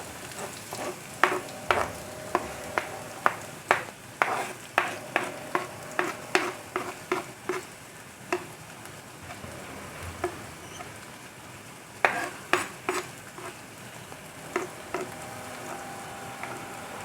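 Curry leaves, onion and garlic frying in oil for brinjal curry: a continuous close sizzle with a series of sharp spatula scrapes and taps against the pan in an uneven rhythm, pausing midway before resuming.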